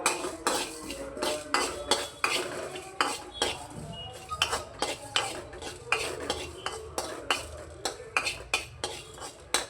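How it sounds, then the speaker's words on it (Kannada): Metal spoon clinking and scraping against a pan in a steady rhythm while fenugreek seeds and spices are stirred, with only a faint sizzle underneath, close and clear. "ಇವಾಗ ಇದನ್ನೆಲ್ಲ ಚೆನ್ನಾಗಿ ಫ್ರೈ ಮಾಡ್ಕೊಳ್ಳೋಣ."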